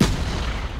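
A sentry gun fires in Black Ops 3 hardcore team deathmatch, a loud booming burst of gunfire filling the short moment.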